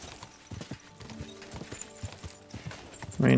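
Horse hooves pounding over open countryside off-road in Kingdom Come: Deliverance II, a steady galloping clip-clop close up, with a sudden louder burst near the end.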